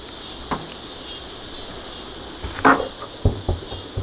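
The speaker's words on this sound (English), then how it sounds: "There's another cicada." Cicadas call around summer beehives as a steady, faint, high buzzing drone in the distance, with a few close knocks and clicks over it.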